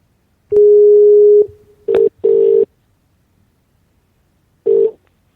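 Telephone line tones during a call: one long steady beep, then a few short clipped beeps and a final short tone after a pause, loud and clean against silence.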